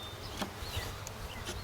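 Honeybees from a package of Old World bees drone steadily and close during hive installation, a dense continuous hum with individual insects passing near.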